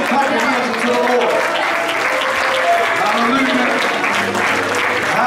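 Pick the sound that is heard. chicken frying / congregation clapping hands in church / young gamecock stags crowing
congregation clapping hands in church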